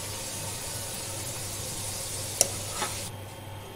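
Potatoes fry in hot oil in a pan with a constant close sizzle and hiss. A single sharp clink of a stirring utensil cuts through near the end.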